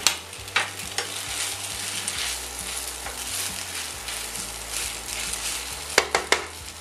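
Fettuccine with smoked salmon and capers tossed in a hot pan gives a steady close sizzle, with scraping stirs and a few sharp utensil clicks near the end.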